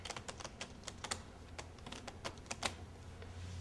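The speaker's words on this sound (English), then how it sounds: "I'm going to shuffle the cards like this." Quick crisp riffling clicks of playing cards being shuffled, several rapid bursts close up over a low steady hum, no talking.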